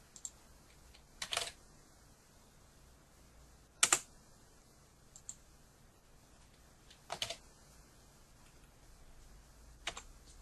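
Computer keyboard keys pressed in a quiet room in short, sparse bursts of clicks a few seconds apart, soft and close with near silence between.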